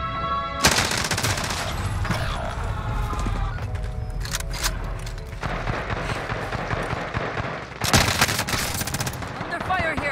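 Automatic gunfire in Warzone comes in several loud, dense bursts with short pauses between them, layered over busy game effects and radio-style voice chatter.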